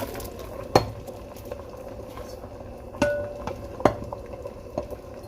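Plantain goes into a pot of cooked beans for porridge, heard as a few sharp metallic clanks of utensil against pot spaced over a quiet simmering background.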